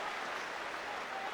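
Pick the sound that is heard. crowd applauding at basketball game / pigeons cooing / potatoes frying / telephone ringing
crowd applauding at basketball game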